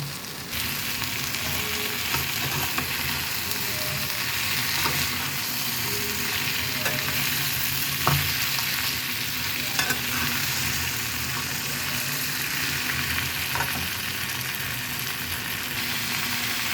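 Steady sizzling of fried pointed gourd in a frying pan with onion, chili and tomato, with occasional scrapes and taps of stirring, close by and no voices.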